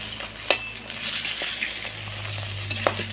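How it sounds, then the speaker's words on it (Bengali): Fish pieces frying in oil in a pan, a steady close sizzle with a few light clinks of a utensil, no voices. "আর এইদিকে মাছ ভাজা করে নিচ্ছি"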